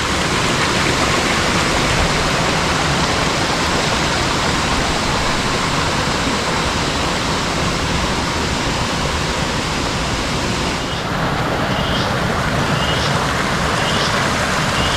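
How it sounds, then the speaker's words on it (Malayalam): Rushing water of a forest river roars steadily and loudly, a broad unbroken wash of flowing sound, with faint chirps near the end. "പുഴയിലെ അടിപൊളി ശബ്ദങ്ങളെ കേൾപ്പിച്ചു തരാം"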